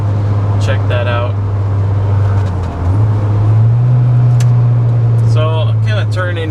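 Engine of a 1981 VW Rabbit pickup (Caddy GTI Euro-style, 5-speed manual) on a test drive: a loud, steady drone from inside the cab that dips briefly mid-way, then rises in pitch as it pulls through the gears, with someone talking over it.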